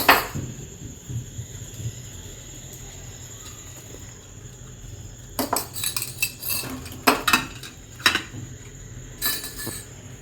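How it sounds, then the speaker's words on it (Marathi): Steamer plates being stacked for dhokla, a quiet kitchen hum broken by clusters of metallic clinks and clatters in the second half, close and fairly loud. "आता मी हे ढोकळ्यासाठी लावून देते पहिले प्लेटला प्लेट लावून घेते"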